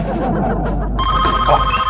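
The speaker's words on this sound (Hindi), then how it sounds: "जल्दी, घंटी बज रही है।" A telephone bell starts ringing partway through, a bright trilling ring close by following a moment of muffled background sound.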